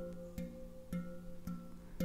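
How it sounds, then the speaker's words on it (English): Soft ghost notes on a handpan, gentle quiet taps recurring roughly every half second with faint ringing tones between them. "Just little bit touching the handpan."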